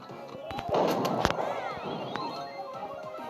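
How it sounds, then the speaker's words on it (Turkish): Gunfire in the Brawl Stars video game comes as a series of sharp, cracking bursts and pops, several clustered early with a crash near the middle, under a busy game soundscape with faint voices. "Lan sen bana mı sıkıyorsun?"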